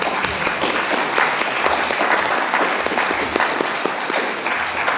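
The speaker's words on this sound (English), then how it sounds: "Yeah, you can applaud." Applause at a synagogue Shabbat service celebrating a bat mitzvah, a lively round of many hands clapping close by, steady and dense throughout.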